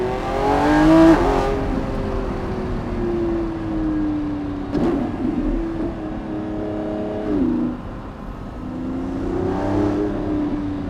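A 2025 Lamborghini Revuelto engine revs and accelerates repeatedly toward 9,500 RPM, rising in pitch through several gear changes, loud and close, with a steady roaring drone between pulls, on a canyon road with the windows down.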